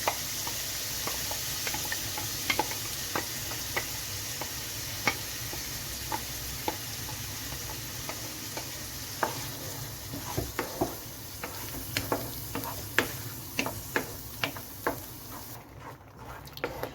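Ground masala paste for malai chicken curry sizzling in a pan under a low, continuous fry, with irregular sharp taps and scrapes of a spoon stirring that grow more frequent toward the end.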